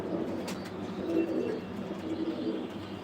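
Pigeons at a racing pigeon loft coo in low, repeated warbling calls over a steady background murmur, close and continuous with no speech.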